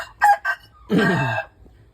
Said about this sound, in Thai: ไก่มีอาการคอดังนะครับ